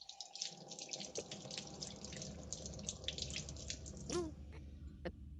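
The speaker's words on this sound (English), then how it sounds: "Now let's wash our hands over here." A sink tap runs steadily as hands are washed beneath it, with water splattering and dripping in a domestic kitchen; a soft, close hiss with occasional sharper splashes and no talking.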